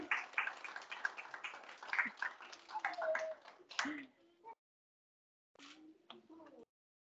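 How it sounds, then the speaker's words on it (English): Pupils at St Albert's school assembly clap and cheer during Climate Action Week, a lively burst of clapping mixed with voices that fades into scattered claps and silence, with an adult voice speaking near the end. "I'm going to ask my friends here in St Albert's to give you a big cheer to say cheerio"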